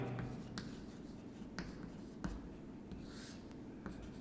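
Chalk or marker writing on a board during a chemistry lesson: faint, rapid scratchy strokes with small taps as letters are formed, steady and quiet in a roomy space, with no talking.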